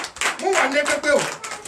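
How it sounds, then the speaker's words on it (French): A congregation at a Sunday church service in Benin claps rapidly and steadily in acclamation, with voices speaking and calling out over the applause. "Donne l'acclamation au Seigneur Jésus"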